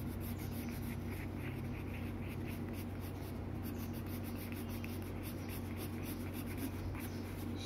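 Pencil shading on paper during a drawing class, a continuous soft scratchy rubbing that keeps a steady back-and-forth rhythm, close and even throughout with no talk over it.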